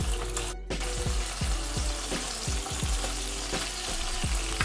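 Bratwurst sizzling and popping in hot oil in a pan on the stove, a steady dense fry with repeated sharp spatters and crackles, close and continuous, no talk.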